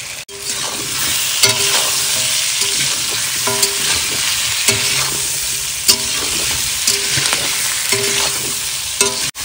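Potatoes sautéing with spices and tomato in a pan, a loud, close, continuous sizzle broken by regular scraping and clanking strokes of a spatula against the metal.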